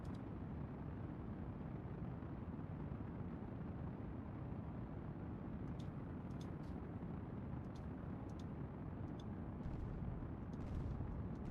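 Explosion in Kerbal Space Program during a takeoff from Eve: a broad, roaring rumble that fills the whole stretch at an even level, with faint crackles flickering over it later on.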